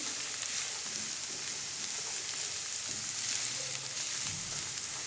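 Egg and vegetable chow mein with chilies is stirred and cooked in a pan, giving a steady close sizzle with soft stirring scrapes throughout and no voices.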